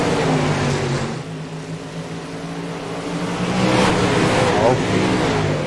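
Race car engines accelerate together at the green flag of a heat race in the iRacing 305 All-Star Series, a steady droning roar that swells toward the end, with a commentator talking over it.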